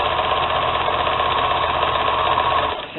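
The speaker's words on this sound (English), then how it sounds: "So now I'm sewing the two linings together." A sewing machine whirs in a steady, continuous run while stitching two tote linings together, then slows and stops near the end.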